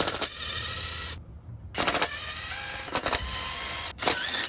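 Transmission valve body bolts on a Toyota being backed out with a power ratchet, several loud buzzing bursts separated by short pauses, close and sharp.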